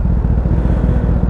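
A Honda Fireblade motorcycle engine drones loud and close in a continuous low rumble, steady with no talk over it.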